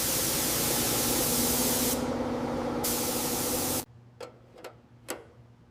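A spray gun lays down the final paint coat on a 1967 Ford Mustang, a loud continuous hiss with one brief change partway through. It cuts off abruptly and is followed by a few quiet ticks and clicks.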